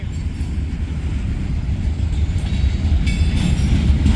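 Conrail freight cars rolling past at close range, some of them bent, with a steady loud rumble and rail clatter that builds slightly toward the end.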